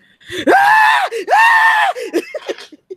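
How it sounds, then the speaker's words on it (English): A person lets out two long, loud, sustained screams back to back, then trails off into shorter gasping, whimpering cries. "She immediately drops the bags and starts screaming."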